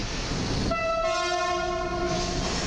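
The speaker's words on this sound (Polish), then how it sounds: "A my teraz nagramy wjazd Intercity Sobieski" Intercity Sobieski passenger train hauled by locomotive EP09-027 pulls into a platform at Warszawa Zachodnia station, its horn sounding a sustained multi-tone blast over a steady rolling rumble that continues to the end.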